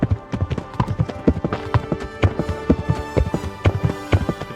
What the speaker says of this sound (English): Loud ass horses.